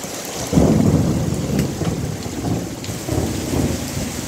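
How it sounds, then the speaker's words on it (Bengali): Heavy rain pours steadily during a storm at a market in Poradah, Kushtia, with deep rolls of thunder rumbling beneath the constant downpour, loud and enveloping throughout. "আর মেঘ ডাকছে।"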